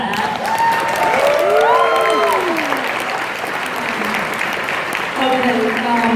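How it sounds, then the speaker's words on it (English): Audience at a fan convention panel breaking into loud, sustained applause that fills the room evenly, with a few voices and whistles rising above the clapping. "Let's give a round of applause for that."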